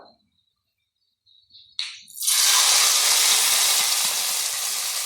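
Fried onions poured into a fishless bitter gourd curry. A faint chirp gives way to a loud, close, hissing sizzle that bursts up and holds steady as it slowly settles.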